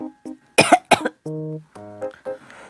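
A person coughs in a few sharp, close bursts with brief voiced, throaty sounds between them, performed by a voice during a read-aloud story.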